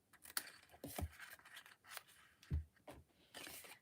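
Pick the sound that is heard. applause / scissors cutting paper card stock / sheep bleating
scissors cutting paper card stock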